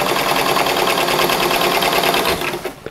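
A sewing machine stitches the edge of an apron using a fat rolled hem foot, giving a fast, steady mechanical whir with rhythmic needle clatter, close and continuous for nearly three seconds before stopping.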